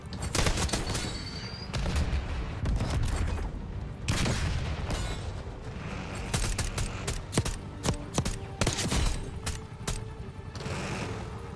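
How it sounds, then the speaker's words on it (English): Rapid gunfire in the video game Black Ops 6, dense fusillades of shots and bursts rattling continuously with occasional heavier booms, loud and close, no talking. "They shoot like that."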